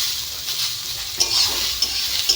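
Bitter gourd frying with onion in a pan, a soft steady sizzle broken by a few sharp scraping stirs of a spatula, close and clear with no voices.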